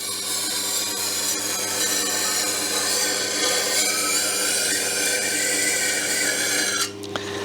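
A knife blade ground on a powered sharpener, a steady abrasive rasping over a constant motor hum that runs for several seconds and stops abruptly near the end, close and fairly loud with no talking.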